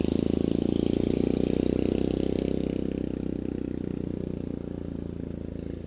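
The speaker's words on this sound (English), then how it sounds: "Somebody come by here on a noisy four-wheeler right when I hooked into one." A noisy four-wheeler ATV drives past a stream where someone is fishing. Its loud, rough engine drones close by and slowly fades, with a few words spoken over it.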